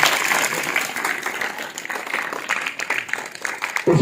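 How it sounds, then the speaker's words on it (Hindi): Audience applause at a school program, a sustained wash of many hands clapping at moderate volume, continuous throughout with slight swells, faint voices mixed in. "तालियां।"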